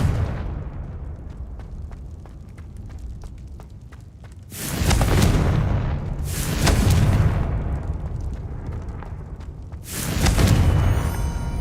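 Confringo fire spell blasts in the Hogwarts Legacy video game: three loud, broad explosive bursts with rumbling tails, separated by a few seconds over a low ambient game background.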